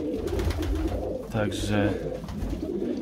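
Budapest highflyer pigeons coo softly inside a pigeon loft, a low murmuring call heard beneath someone speaking close by.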